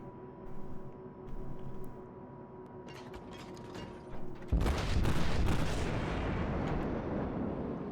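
Naval cruiser guns firing in World of Warships, from the German heavy cruiser Admiral Hipper: a low rumbling engine bed with faint mechanical clanks, then a sudden loud boom at mid-clip that rolls into a sustained heavy roar.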